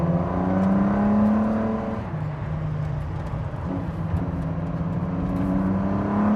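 Ford GT with an EcoBoost twin-turbo V6 driving on the road, a close, loud, steady engine drone that dips as the gear changes, then holds an even whirring pitch under load.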